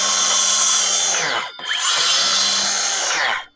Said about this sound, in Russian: Ой, чуть было доску не отпилил.